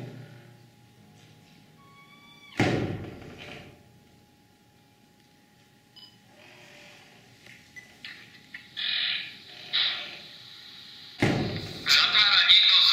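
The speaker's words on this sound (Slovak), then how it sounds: "Zatvára niekto z vás tie dvere?" A few loud, sharp thuds like a door banging shut, one early and one near the end, with quieter rustling and faint voices in between.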